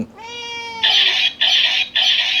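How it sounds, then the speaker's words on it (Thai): A cat gives a single drawn-out meow, close and clear, that falls in pitch, followed by three loud bursts of harsh electronic noise from a bootleg Chinese-made DX Fang GiaMemories toy. "แมวมาวุ่นวายนะฮะ"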